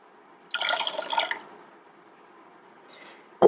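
Garum, an ancient Roman fish sauce, trickles into a pot of mussel broth for a festive shellfish dish, a short wet splashing pour of about a second followed by quiet, then a faint clink and a sharp knock at the end.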